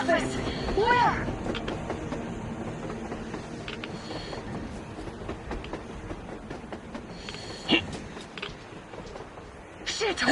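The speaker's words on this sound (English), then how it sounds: "A damn train on the surface!" A train rumbling past on the surface in Metro Exodus, a steady clattering roll with hissing and metallic clanks, moderately distant under voices talking.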